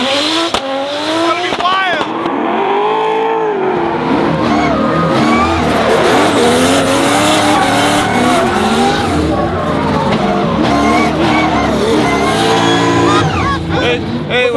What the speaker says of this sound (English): We're in a loud and smoky Yas Marina Circuit, the Emirates Drift Championship